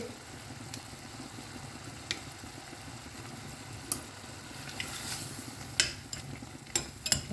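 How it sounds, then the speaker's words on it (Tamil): Chopped tomato softening in a pan over low heat: a faint, steady sizzle broken by scattered sharp clicks and scrapes from a spoon stirring, with the taps growing more frequent toward the end. No one speaks. "தக்காளி கொஞ்சம் வதங்கட்டும்."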